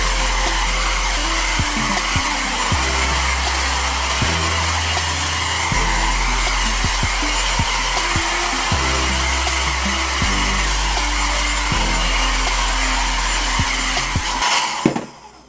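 An EVA NYC mini hair dryer blows steadily while drying hair, a loud, constant whooshing roar that holds for the whole stretch before cutting off abruptly at the end.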